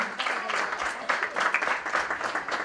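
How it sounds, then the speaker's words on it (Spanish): An audience at a national living statues contest awards show applauds the visual artists, a dense, steady wash of many hands clapping throughout with no voices on top. "darles un gran aplauso"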